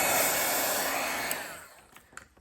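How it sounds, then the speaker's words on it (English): A heat gun blows a strong whooshing rush of air that cuts off and winds down, followed by a few faint clicks. "I used my heat gun to dry it"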